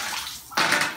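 Shower water runs steadily, a soft hiss that suddenly grows louder and fuller halfway through as the flow increases or hits a surface, with no voices.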